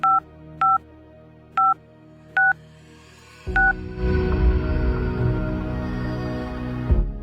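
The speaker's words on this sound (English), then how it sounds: "she picked up a telephone laying on the table and" A telephone number is dialed at a health center, giving five loud, distinct keypad tones in an uneven rhythm, followed by a steady broadband hum under it.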